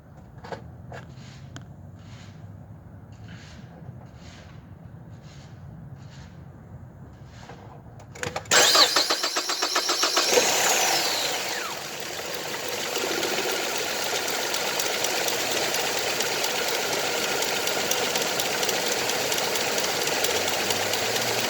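A 2007 Ford Fusion fresh from a battery change cranks over briefly and catches, its engine bursting into a loud start before settling into a steady idle, preceded by faint rhythmic ticking.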